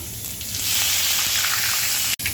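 Curry leaves dropped into hot oil already holding cumin, mustard seeds and asafoetida set off a loud, steady sizzle, a dense hiss that runs on continuously, then cuts out for a brief moment near the end.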